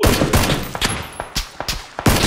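Rapid gunfire in the battle royale shooter PUBG, a string of about eight sharp, loud, close shots fired in quick uneven bursts, with no talking over them.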